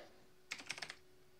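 Short burst of quick, light keystrokes on a computer keyboard, about five taps in under half a second, close and fairly quiet against faint room noise.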